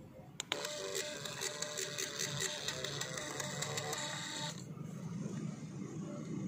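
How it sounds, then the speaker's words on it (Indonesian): A car battery tester prints its test results, a fast buzzing printer chatter with a steady stream of ticks running about four seconds before stopping, close and alone over a low room hum. "Kita print aja."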